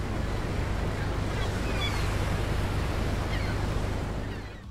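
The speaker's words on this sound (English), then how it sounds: "by the ocean, where you could hear the wind, waves, and seagulls." Ocean ambience from the video game GTA III: a steady, full wash of wind and surf rolling continuously at even loudness before easing slightly at the end.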